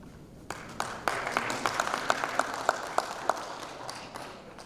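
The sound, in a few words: audience applause welcoming a speaker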